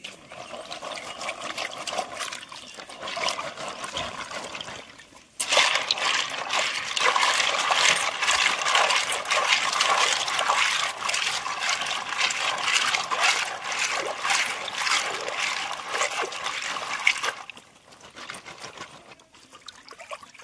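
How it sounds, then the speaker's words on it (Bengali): Freshwater mussels are scrubbed and rinsed in pond water, giving a continuous close trickling and sloshing that swells loudly for most of the stretch, then settles to softer splashes. "ঝিনুকগুলোকে একদম চকচকে করে ধুয়ে নিয়েছি।"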